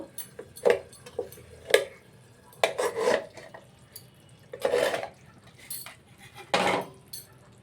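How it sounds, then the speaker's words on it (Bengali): A plate used as a lid clatters as it is lifted off a pan of simmering katla fish kalia, with several crisp clinks and scrapes of ceramic and metal, a few separated bursts close by, no voices. "এখানে আমরা ঢাকাটা খুলে একবার দেখে নেব।"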